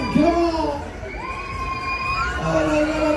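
Crowd of riders screaming and whooping on the Hurricane fairground ride at the Aalst winter kermis, rising and falling shrieks layered together, loud and close over a low mechanical rumble.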